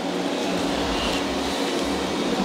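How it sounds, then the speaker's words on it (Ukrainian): Steady broadband whoosh of a vacuum cleaner under test in the background, a constant loud drone without pauses, heard in a workshop while a water-damaged Fujifilm X-T3 camera is being reassembled. "то у нас тут тестується пилосос"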